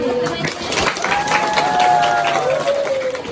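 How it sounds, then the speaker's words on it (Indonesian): Children clapping together in an Islamic studies prayer lesson, a burst of close applause with a few voices calling out over it and a tonal whistle-like sound sliding through. "Tepuk tangan dulu"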